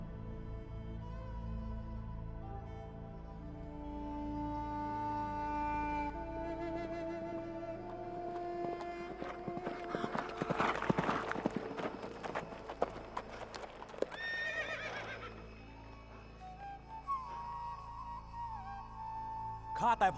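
Horse hooves clip-clop at a fast messenger's gallop in a Thai historical light-and-sound stage show, with steady rhythmic beats under sustained orchestral music.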